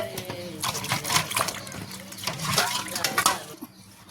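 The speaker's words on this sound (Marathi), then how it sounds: "स्वच्छ असं पाणी येऊपर्यंत तो धुवून घ्यायचा." Raw village chicken being rinsed by hand in water for a wood-fire curry, with splashing and sloshing in a pot and faint clinks of a vessel, heard close up under a person talking.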